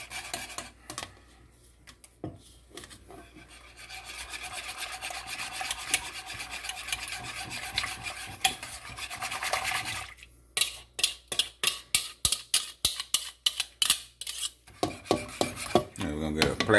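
Chocolate bread pudding mixture stirred in a pot: metal utensil scraping and clinking against the pan, a steady grinding swirl that turns into a quick, regular stroke rhythm, close by with little talk.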